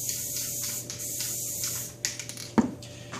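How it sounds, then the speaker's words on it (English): An aerosol can sprays paint onto model railroad fall trees in short hissing bursts, fairly close, with a few handling clicks and knocks near the end. "So I'm just going to spray like just in the top area"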